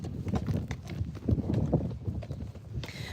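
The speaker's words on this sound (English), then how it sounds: "then you get to hear that lovely clip clop on the road" A Friesian horse's hooves clip-clopping on a road at a walk, making a quick, close, steady run of hard clops.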